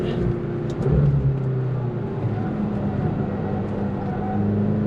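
A McLaren GT pulls away with a bit of wheel spin, a steady engine drone building speed, heard from inside the car with a brief surge near the start and no talk.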